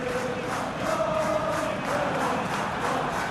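Stadium crowd in PES 2021 football keeps up a steady, dense roar of cheering and chanting throughout, loud and even with no single voice standing out.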